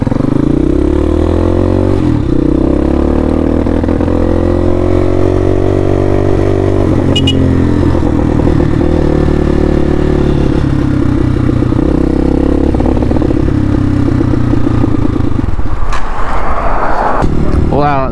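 A Hawk 250 motorcycle engine runs up close and loud, a steady throbbing idle with gentle swells in pitch as the throttle and choke are adjusted, and a voice heard faintly beneath it.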